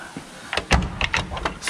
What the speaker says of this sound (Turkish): Eski 124'lerin kapı kilidi.